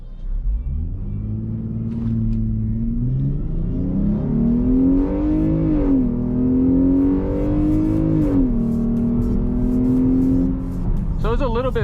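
A V6 Jeep launches under launch control in a 0-60 run, the engine rumbling loud and close as it climbs through the gears in rising sweeps with brief dips at each shift; voices talk over it near the end.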